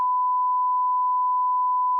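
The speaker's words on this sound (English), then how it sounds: "that long beep you just heard was because we're about to beep that out" A long, steady censor beep, a pure single-pitch tone holding at constant loudness for the full two seconds on a podcast, with no voices over it.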